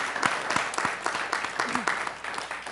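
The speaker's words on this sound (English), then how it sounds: "how about a round of applause for Keith Winchittle?" An audience at a school board meeting gives a short round of scattered clapping, fairly faint, with voices talking over it.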